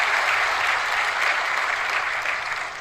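A large audience at an official government event in Vigyan Bhavan applauds steadily and loudly, a dense, continuous wash of clapping with no pause.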